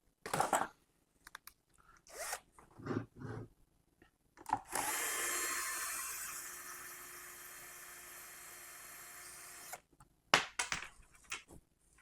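A power drill whirs steadily for about five seconds, slowly winding down, between short bursts of clattering and handling noises while taking apart an amplifier for repair.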